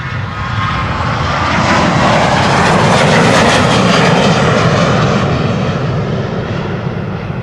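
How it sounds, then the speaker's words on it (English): An airliner takes off from the Polderbaan runway 36L/18R at Amsterdam Schiphol, its engines swelling into a loud, broad roar that holds for several seconds and then eases slightly as it moves away. "Parallel departures in progress."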